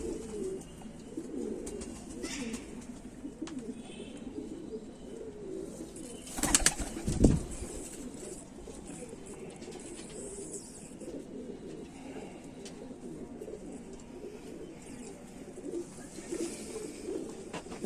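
Kamagar pigeons with jhumka crests cooing in a loft, soft low continuous cooing from several birds with a brief flutter or clatter near the middle.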